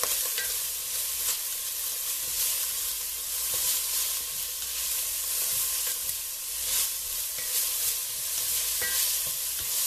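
Chicken pieces fry in olive oil with garlic and sage, giving a steady, dense sizzle and hiss with occasional stirring scrapes, close and continuous with no talk.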